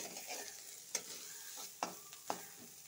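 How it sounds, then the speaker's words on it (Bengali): Rice and cashews fry in ghee as a soft, low sizzle, and a spoon scrapes and stirs through the pan in three or four sharp strokes, close by, with no voices. "ভুগ চালটা একটু ভালো করে ঘির সাথে ভাজিয়ে নেব।"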